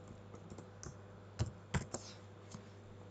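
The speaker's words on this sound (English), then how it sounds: "We're going to type in block LAN 2 from LAN." Typing on a computer keyboard, faint scattered keystrokes with a few sharper, louder clicks, close by in a quiet room with a low electrical hum.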